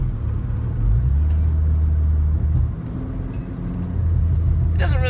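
Saab 9-3 Turbo engine struggling to idle, a steady low rumble that sags and surges unevenly inside the car, with a faint chirp near the end and no clear talking over it.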